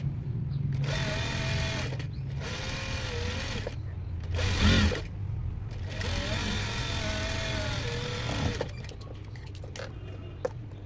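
A sewing machine stitches a princess-cut blouse in several close, whirring runs that start and stop, with brief pauses between seams.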